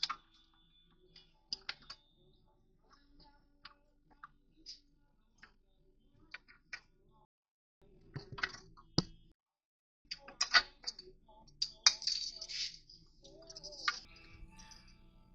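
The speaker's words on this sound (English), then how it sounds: "undoing the plastic clips." Plastic clips on the speed sensor wiring of a BMW E46 325xi are undone, giving scattered sharp clicks and snaps close by, with quiet handling noises between them and louder bursts near the end.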